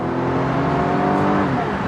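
Sporty 200-horsepower convertible accelerating at high altitude, a steady engine drone with a rising tone heard from inside, continuous and fairly loud with no talk.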